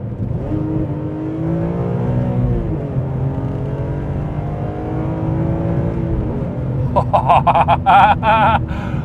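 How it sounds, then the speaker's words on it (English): BMW E46 M3 with an SMG gearbox driving, its engine droning close and steady as the pitch rises and falls gently, with a cluster of short, sharp bursts near the end. "Engine health seems good. Gearbox appears to be working nicely."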